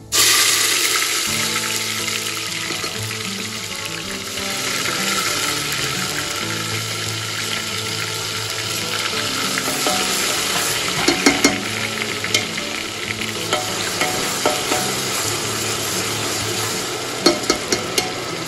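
Onion paste frying in a pan for chicken biryani, a loud steady sizzle close by with occasional stirring scrapes and clicks throughout, no talk.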